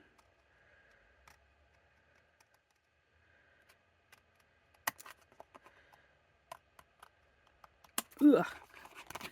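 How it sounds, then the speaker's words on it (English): Large scissors snip through a couple of layers of paper while trimming a handmade card, a few sparse crisp clicks and cuts building to a louder crunching cut near the end, close up, with a brief grunt. "Cutting through a couple of layers of paper there."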